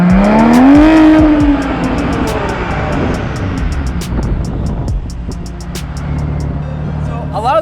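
A twin-turbo Porsche 996 911 with a rear-wheel-drive conversion pulls hard, its engine rising sharply in pitch and then holding a loud, strained roar, with a voice talking over it.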